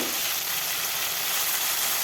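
Pomfret fish fry in hot oil, a dense, even sizzle that stays loud and close throughout with no speech.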